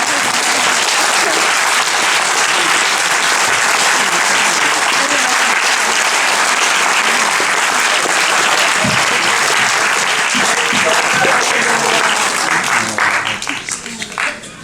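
Audience applause at a French film premiere for the cast, loud and sustained dense clapping from a packed hall, steady throughout and thinning slightly at the very end.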